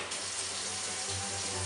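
Water pours continuously from a surgical scrub sink tap, a close, steady rushing stream with a low hum beneath and no talking.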